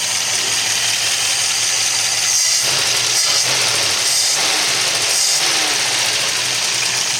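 A Studebaker engine idles steadily right after its first start, a loud close rumble with a few brief revs or surges along the way and no talking.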